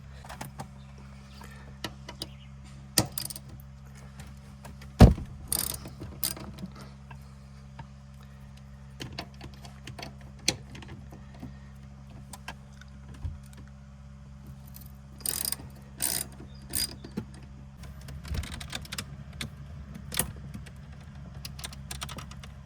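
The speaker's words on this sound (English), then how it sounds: "there is a two T50 Torx that we need to unscrew here" Two T50 Torx screws on a BMW X7 being worked loose, sparse ratcheting ticks and small metallic clicks and taps in a quiet space, close by, with no talk.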